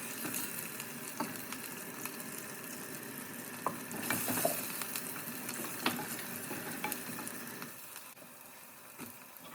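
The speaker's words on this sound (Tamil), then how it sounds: "கருவாடு 2 சைடும் நல்லா வதங்கிடுச்சு." Dried fish sizzling in oil in a pan, a soft steady crackle close by with occasional stirring clinks, fairly quiet and without speech.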